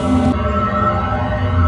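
A Portal 2 vactube ambient sound plays as a steady, tonal mechanical hum with layered resonant drones, and a brief airy hiss fades out early, leaving a continuous loud low rumble.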